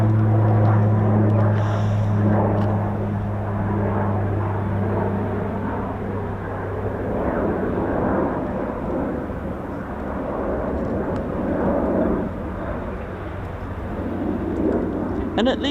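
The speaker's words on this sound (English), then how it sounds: "at least the F-35 is having the ground run here" A Lockheed F-35B stealth fighter runs its jet engine on the ground at an RAF airfield, a continuous distant low roar with a deep rumbling hum.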